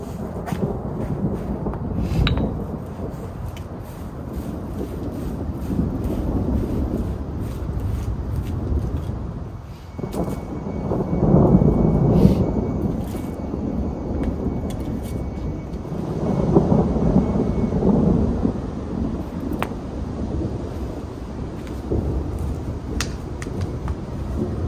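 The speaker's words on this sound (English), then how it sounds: "There is so much thunder going on." Storm thunder over a home garden rolls on as a steady, low rumble that swells and fades for about 25 seconds. It sounds distant, with no voices.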